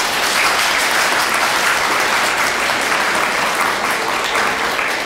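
An audience in a university lecture hall applauds steadily to welcome a visiting Buddhist teacher, a dense, even roar of clapping heard up close and holding at the same level from start to finish, with no voices above it.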